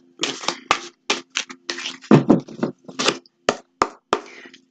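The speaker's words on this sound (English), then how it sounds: "we'll give them another shuffle" Tarot cards are shuffled by hand in a series of crisp, close snaps and flutters, a dozen or so quick bursts with short silent gaps between them and no voices.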